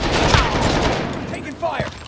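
Dense rapid gunfire from a video game match, a burst of overlapping shots that rises and thins out, with voices mixed in.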